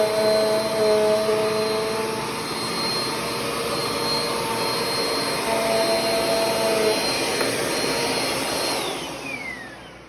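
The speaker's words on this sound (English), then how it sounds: "So let's start with the Bissell Cleanview compact turbo." Bissell CleanView Compact Turbo vacuum cleaner running continuously, a loud close-up motor roar with steady whine tones, cleaning up a dryer vent mess, dropping off briefly at the end.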